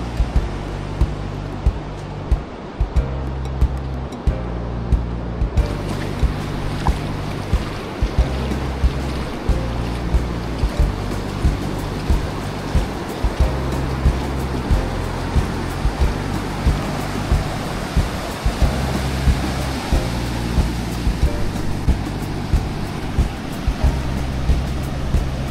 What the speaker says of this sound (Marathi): आणि इकडे मस्तपैकी आपला समुद्र.